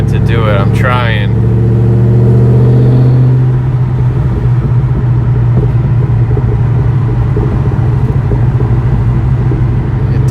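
A 2004 Mystichrome car's engine revs hard with a steady loud rumble, a brief higher sweep at the start, and a small backfire pop; a voice speaks over the opening seconds.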